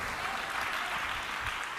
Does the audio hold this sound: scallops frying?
no